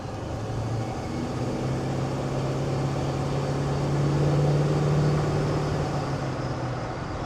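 Restomod 1977 Ford F100 shortbed pickup with a 351 cubic-inch engine, slowing for a turn around 50 mph: a steady low engine drone with road rumble inside the cab, rising slightly in the middle.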